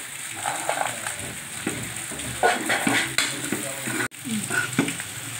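Potatoes and cashews fry in hot oil in a pan, a loud continuous sizzle broken by scraping stirs and the occasional clink of a utensil against the pan, with no voices.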